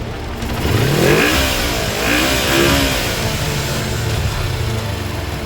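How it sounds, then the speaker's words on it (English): A 1986 Kawasaki Ninja 250R motorcycle engine revs up from idle and back down twice, loud and close, its pitch rising and falling with each rev. "Give me a little rev."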